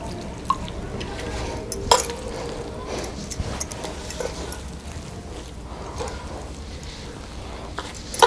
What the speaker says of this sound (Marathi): थोडंच आपण पाणी घालूया.